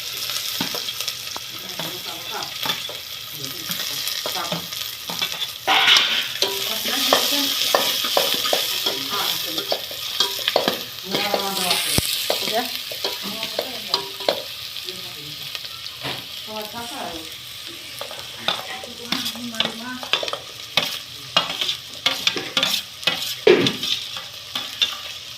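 Green onions and chopped onions, added to hot oil with cumin, sizzle steadily while a spoon scrapes and clinks in the pan at an irregular pace.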